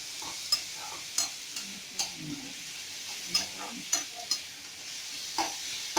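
Onion and chopped tomato stirred and fried in a pan, with a soft sizzle broken by regular sharp spatula taps and scrapes, about one every half second to second, close and fairly quiet.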